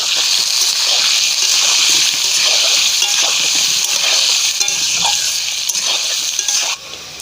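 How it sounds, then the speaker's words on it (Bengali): Potatoes are stirred as they fry in a wok of hot oil, giving a loud, steady spattering sizzle that drops away abruptly just before the end. "এবার আমি নাড়তে থাকবো।"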